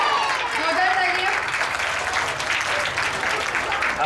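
Loud crowd applause at a Republic Day celebration, a thick continuous clatter of many hands with voices and a cheer-like tone running through it.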